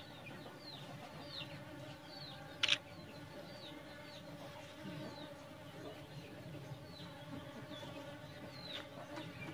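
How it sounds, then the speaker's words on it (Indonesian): Bees buzz steadily around flowers outdoors, a soft continuous hum with faint bird calls and one brief sharp tap partway through. "banyak sekali tawon"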